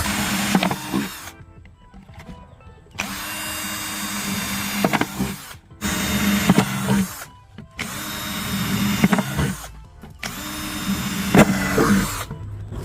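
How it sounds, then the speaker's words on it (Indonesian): A power drill bores holes into a plastic container being made into a rat trap, with several loud whirring bursts separated by short pauses. "Untuk melubanginya bisa menggunakan bor atau bisa menggunakan paku yang dipanaskan."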